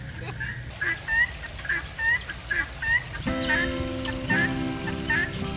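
Farmyard poultry, kept as useful household birds, call over and over, with rhythmic squawks and clucks against steady background noise.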